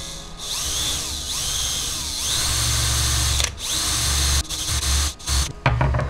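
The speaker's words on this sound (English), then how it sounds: "I'm gonna go ahead and just drill the holes where the screws will be coming out" A power drill bores screw holes through a 3D printer bed heater assembly for a Voron 2.4R2 build, whining steadily and loud at close range for several seconds with brief pauses near the end.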